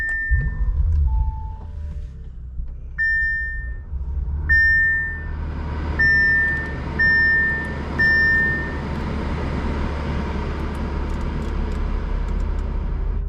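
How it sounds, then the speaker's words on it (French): A 2020 Bentley Continental GTC is started: several short electronic chimes ring out over a steady low rumble, which thickens into a fuller engine idle partway through. Nobody speaks. "vous allez me permettre de démarrer très rapidement le véhicule pour la climatisation"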